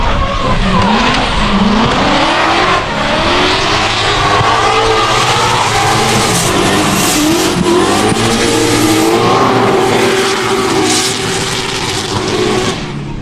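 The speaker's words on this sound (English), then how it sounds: "So that's the engine." Ford Mustang RTR race car with a Coyote V8 roars loudly and continuously at full throttle, revving and shifting through gears with tire skid noise, close and dominant throughout.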